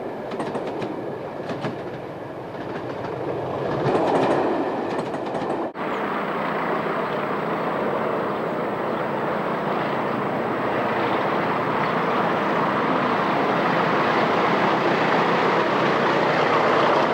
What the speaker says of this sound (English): This train is en route from Skegness to Derby